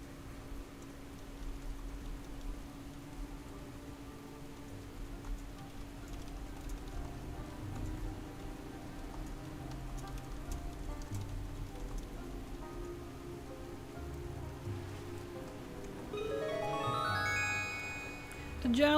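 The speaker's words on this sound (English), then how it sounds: "It is raining today in the Dragon Isles, that's for sure." Steady rain falls across the Dragon Isles in World of Warcraft, a continuous soft patter on surfaces that holds for the whole stretch beneath game music and a streamer's voice.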